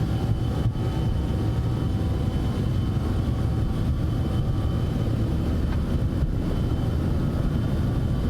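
Citation X jet on its takeoff roll in the MSFS 2024 flight simulator, a loud continuous engine roar with dense low rumble that holds steady and close throughout, no talk.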